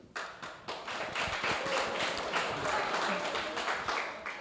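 A short burst of clapping from a small crowd at a public utilities commission hearing, uneven and fairly close, rising quickly and fading after a few seconds.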